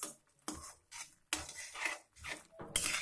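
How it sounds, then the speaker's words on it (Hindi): A ladle stirs thickening semolina upma in a pan, making soft scraping and knocking strokes in irregular bursts separated by short pauses, close and fairly quiet, with no voices. "टाइट होने तक इसको ऐसे लगातार चलाते रहना है कलछी की सहायता से"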